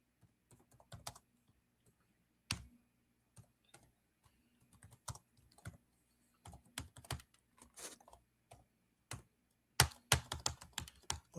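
Computer keyboard typing in bursts of quick, uneven keystrokes with short pauses, growing busier and louder near the end, with no voices.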